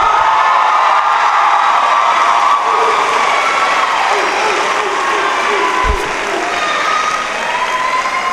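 Graduation audience at a high school ceremony in Dunkirk, New York, breaks into sustained loud applause with scattered cheers and whoops, a dense continuous crowd roar lasting throughout.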